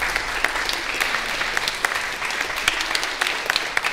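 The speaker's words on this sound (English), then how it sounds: "Let's give you a round of applause here." A church congregation at a Sunday worship service applauds volunteers of a vacation Bible school with steady, dense clapping from a crowd in a large room.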